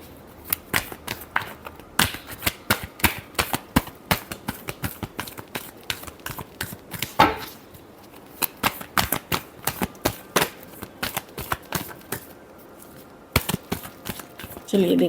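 A deck of tarot cards is shuffled close up in rapid rhythmic bursts of crisp riffling and snapping, with short pauses between runs.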